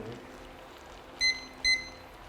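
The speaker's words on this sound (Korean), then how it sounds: "우리 요리사님이 2분 타이머를 한번 맞춰주세요" A kitchen timer being set to two minutes during a fish-cake stir-fry cooking lesson gives two short, bright beeps in quick succession over a quiet room hum.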